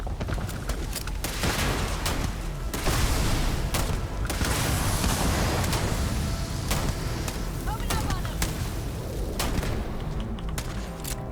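Rapid gunfire crackles through a Starfield firefight, sharp repeated shots in bursts over a dense rumbling background, with people speaking over the shooting.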